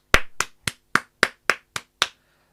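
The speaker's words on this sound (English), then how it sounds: "I'm giving a round of applause to our series" A single person gives a slow round of applause: eight crisp, evenly spaced claps, loud and close, with silence between each.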